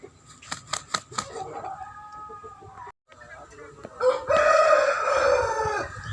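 An aseel game rooster offered for sale crows nearby in a short, loud, rising call, with clucking and other fowl around it. Someone talks over and between the calls.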